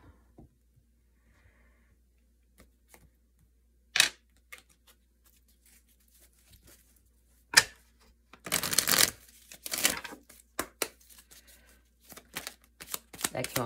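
Tarot cards being shuffled by hand during a reading: soft riffling bursts arrive around the middle and end of an otherwise quiet stretch, with a few isolated taps and clicks scattered earlier.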